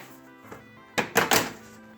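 The hinged top door of a Deepcool Dukase v2 PC case being handled, giving a soft tap followed by a quick cluster of three close, light thunks and clicks as it shuts.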